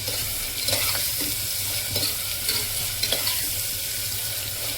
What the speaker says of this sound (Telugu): అప్పుడు అయిపోతుంది చూడండి ఉల్లిపాయ వెళ్తుంది